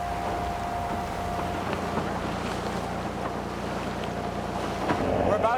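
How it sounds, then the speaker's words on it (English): A boat pushes into a Greenland ice field, with a steady rumble of engine, wind and water and occasional knocks of hull against ice, the wash swelling louder near the end. "I could just hear the boat hitting the ice."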